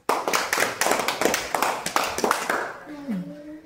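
Primary schoolchildren in a classroom give a classmate a round of applause, dense clustered clapping for about two and a half seconds that then stops, followed by a short spoken voice nearby.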